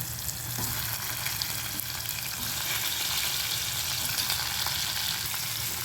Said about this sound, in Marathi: आता आपण ह्याच्यामध्ये वांगे भरलेले आपण ह्याच्यात सोडूया